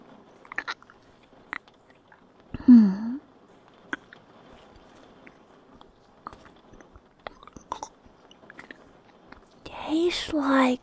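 Crisp bites and close, moist chewing on a crunchy star-shaped fruit come in scattered clicks, with a louder crunchy burst near the start and another at the end, over soft rain.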